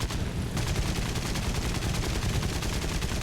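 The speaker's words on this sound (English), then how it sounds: "Now you want to shoot him." Rapid, sustained aircraft gunfire from a Ki-61 fighter in the combat flight game War Thunder, a dense continuous rattle of automatic fire that runs loud and steady throughout, with no talk over it.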